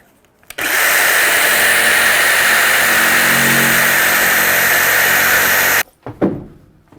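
A power saw rips steadily through plywood along a scribed line for van headliner and wall panels, a loud continuous whine lasting about five seconds, then cutting off abruptly with a few quick clunks as the piece is handled.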